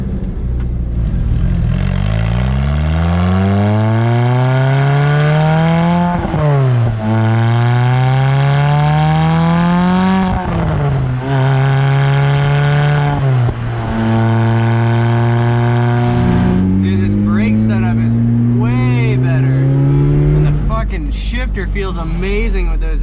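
A Lotus Exige fitted with an Inokinetic/Sector111 exhaust accelerating hard through several gears, loud rising engine notes with distinct shifts and a throaty burble, heard up close with occasional voices over it.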